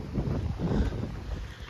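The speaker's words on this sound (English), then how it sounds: "it's really windy too" Strong tropical storm wind buffets an outdoor microphone, a continuous low rumbling roar with gusty swells and no voices.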